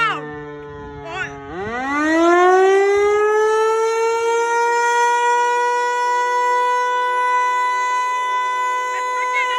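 An Eclipse 8 civil defense siren under test sounds loud and close, sliding up from a low growl into a sustained, steady multi-tone wail that holds for several seconds.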